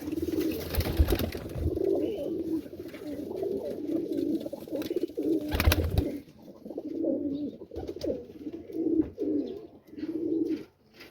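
Pigeons cooing in repeated soft, rhythmic phrases close by, with a few sharp rustling knocks in between.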